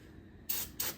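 Two short bursts of aerosol brake cleaner hiss onto a Coleman Powermate generator, the second following closely after the first, in an otherwise quiet space.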